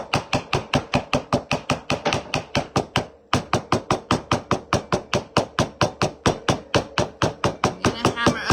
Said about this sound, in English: I'm going to hammer up the wood too, just so it gives it more of an age effect.